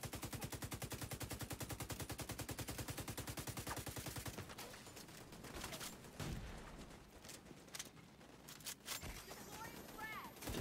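An enemy turret machine gun firing in The Division 2, a fast, steady, loud burst of rapid shots for several seconds, then scattered gunfire, impacts and game effects, with faint talk in the background.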